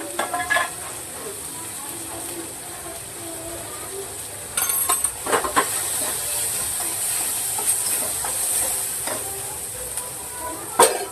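Onion browned deep red sizzles steadily in a pan as turmeric and asafoetida go in, with a constant hiss and a few sharper clatters of a spoon against the pan, close and fairly loud.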